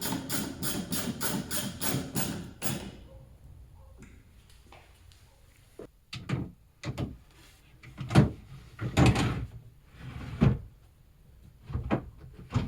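A dresser drawer slide being reattached after the drawer bottom fell out: a fast, even rattling burst, then scattered wooden knocks, clunks and scrapes of varying loudness.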